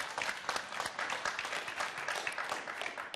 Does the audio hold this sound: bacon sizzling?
no